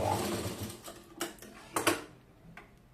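A tailoring sewing machine runs in short bursts stitching long stitches, a quick mechanical rattle fading, then a few separate clacks of the mechanism, moderately close and quiet.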